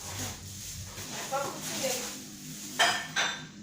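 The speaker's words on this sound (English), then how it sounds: "I'm going to open it, open the pot, and bring out the couscous." Metal clanks and scrapes of a couscous cooking pot lid being lifted and set down, two sharp clinks near the end, with a person talking.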